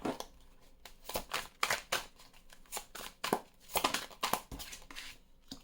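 Tarot cards are shuffled by hand, a long run of close, soft riffling and slapping bursts in an uneven rhythm with brief gaps, papery and fairly quiet, with no voice over them.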